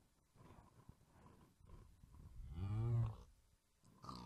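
A single long, low moo from drowning cows in a video game swells up near the end, loud and close, over a quiet background with faint rustling.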